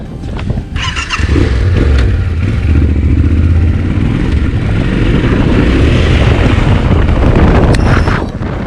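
A Yamaha Tenere 700 adventure motorcycle engine rumbles loudly and continuously close by, revving as it rides light off-road over rough ground, with gravelly crunching underneath.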